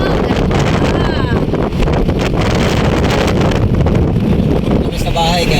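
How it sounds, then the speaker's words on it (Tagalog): Strong outdoor wind buffets the microphone continuously, producing a loud, roaring rumble with rustling that never lets up. "Maingay nga lang guys yung hangin."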